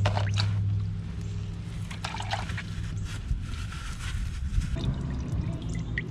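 CVT transmission fluid drains from a Honda HR-V in a steady, continuous pouring stream with light splashing underneath. It stays fairly even throughout, with a faint background hum.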